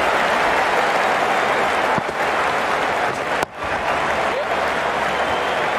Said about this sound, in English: The crowd's on their feet, probably hoping they can catch a six.